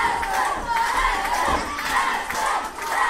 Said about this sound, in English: As the crowd here in Abbeville is chanting for Ashton Spears to get to the corner.